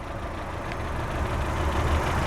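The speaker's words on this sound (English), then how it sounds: "A little bit of a clattery 4-cylinder engine" A 2008 Saturn Astra XE 4-cylinder engine idles with a steady, slightly clattery low rumble, close and alone.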